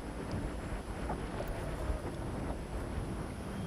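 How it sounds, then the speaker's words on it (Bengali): Wind rushing and waves slapping on a river around a fishing boat in rainy weather, a steady, close broadband roar with gusty swells and no voices. "বাতাস,"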